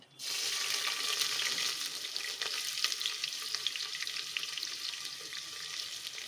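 Finely chopped onion with bay leaf frying in a pan for white kushka rice, a steady close sizzle with soft stirring scrapes running evenly throughout.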